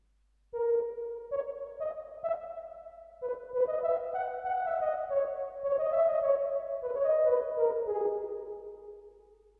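A sustained keyboard tone with soft, smeared note onsets, played as a slow melodic phrase drenched in long reverb that lingers and blurs between notes.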